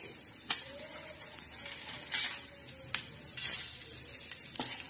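Whole spices such as coriander seeds and khada masala crackle while roasting in a dry pan over low flame, with scattered sharp pops and faint sizzling spread over a quiet background.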